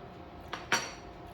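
A spoon clinks twice against a pot of sweet potato almond soup, with a light tap and then a sharper, louder ring that fades quickly in a quiet kitchen.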